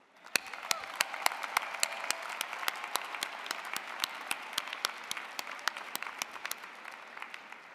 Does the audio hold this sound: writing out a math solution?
no